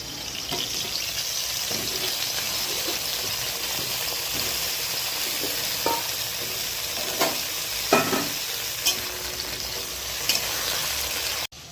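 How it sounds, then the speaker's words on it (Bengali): Pointed gourd (potol) frying in oil in a pan gives a steady, close sizzle throughout, with occasional clicks and scrapes of a utensil over the continuous hiss. "আমি এখন চাল পটল বানাবো। পটলটা ভেজে নিচ্ছি।"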